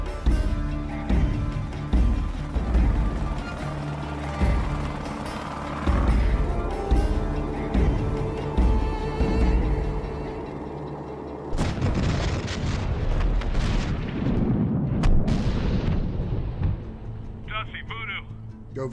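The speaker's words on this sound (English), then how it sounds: "We have airstrike inbound." Heavy airstrike explosions in the video game Medal of Honor Warfighter deliver a run of loud, deep booms and rumbling blasts, then a sharper crashing impact with debris, while voices talk over the battle.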